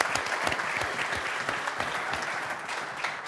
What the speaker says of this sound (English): Can you give a very, very warm round of applause,